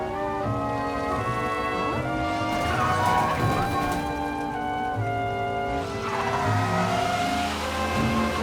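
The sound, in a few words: car accelerating in video game Mafia: Definitive Edition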